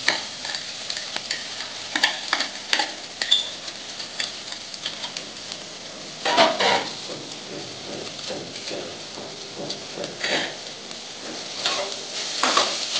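Chicken pieces fry in a pan with browned onions, a constant sizzle broken by irregular spatula scrapes and clinks against the pan as they are stirred.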